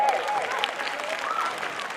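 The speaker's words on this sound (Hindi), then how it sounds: "पहले बच्चों का आने से पहले तालियों से इस्तकबाल किया जाए" Audience clapping to welcome children onto the stage at a school performance, a brief steady patter of many hands with some voices and cheers mixed in.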